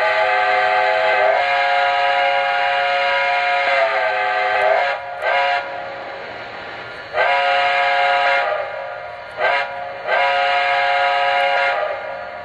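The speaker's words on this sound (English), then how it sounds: "Watch what happens when I blow the whistle on the engine." A Lionel Vision Line 700E Hudson model steam locomotive's whistle blows in long sustained blasts, with brief breaks between them, loud and close.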